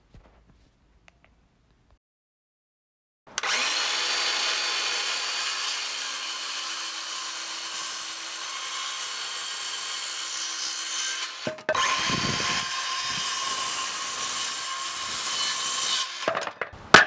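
Hand saw cutting 2x4 timber to rough length, steady rhythmic rasping strokes close up in two long bursts separated by a short pause, starting after a few seconds of silence.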